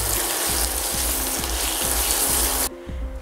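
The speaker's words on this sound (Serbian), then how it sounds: "To sve sada promešam i pržim još jedno 3 do 4 minuta." Onions and pepper with bay leaves fry in a pan, giving a steady close sizzle with a soft scraping stir every half second or so, before the sizzle suddenly drops away near the end.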